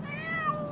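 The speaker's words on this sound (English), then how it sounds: "My kitty is stuck in a tree." A cat stuck up in a tree lets out one drawn-out, faint meow, sliding in pitch, over a low steady background hum.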